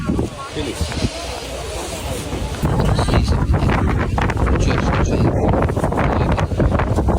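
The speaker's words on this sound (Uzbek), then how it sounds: "Shamol Qo'qonda." Wind gusts hard across the microphone at a busy night market in Kokand, Uzbekistan, making a loud, rough buffeting that swells partway through, with crowd voices faintly underneath.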